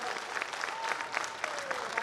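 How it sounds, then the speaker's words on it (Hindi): A Bhojpuri stage show audience bursts into dense, steady applause, many hands clapping close together for the full stretch, with a faint voice carrying over the crowd. "ताली बजा के बताइए आप लोग"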